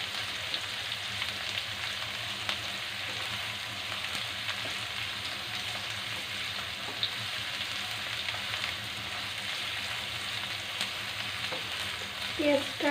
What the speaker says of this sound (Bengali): পেঁয়াজটা বাদামি রং না হওয়া পর্যন্ত ভাজবো।